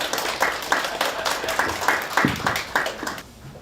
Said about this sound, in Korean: 뜨거운 박수로 자연스레 맞아주시기 바랍니다.